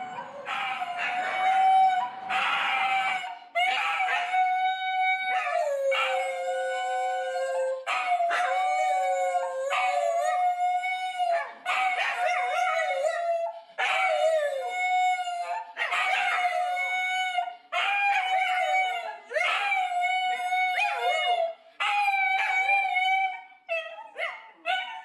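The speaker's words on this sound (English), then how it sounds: "I understood every word they barked" Several dogs howl in long, wavering, rising and falling tones, sometimes overlapping in a chorus, with breaks between phrases, loud and close over about 25 seconds, as part of a congratulatory video shown at a Mariners Hall of Fame induction ceremony.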